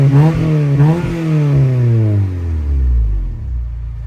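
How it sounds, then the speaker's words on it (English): A Honda Prelude engine with an aftermarket Invidia Q300 exhaust revs up with a deep, throaty exhaust note, then the pitch falls away as it settles back toward idle, loud and close. "Thought I'd get a little bit of a warm rev for you guys now that it's home."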